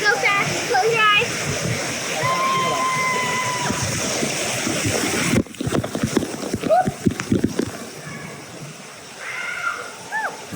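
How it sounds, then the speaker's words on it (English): Water pours from a waterfall onto the lazy river at Blizzard Beach water park in a dense, steady rush that drops away partway through, leaving scattered splashes, with people talking close by. "that waterfall is not as intense as like the one at Typhoon Lagoon"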